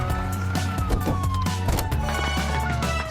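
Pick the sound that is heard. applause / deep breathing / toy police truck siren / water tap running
toy police truck siren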